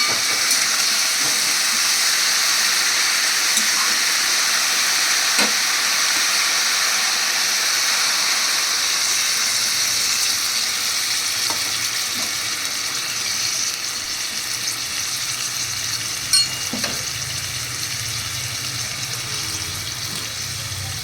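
Vegetables with potatoes and pumpkin stems sizzle and steam in a pan after water is poured in, a steady loud hiss that runs unbroken for about twenty seconds, with no talk.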